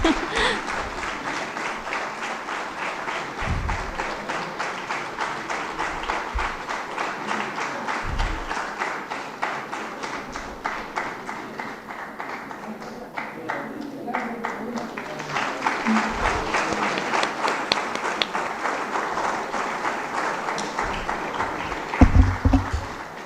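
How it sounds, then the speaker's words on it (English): Audience at an awards valedictory function for Vigilance Awareness Week clapping steadily, a sustained round of applause that swells slightly later, with occasional voices beneath. "I think we really deserve a louder round of applause."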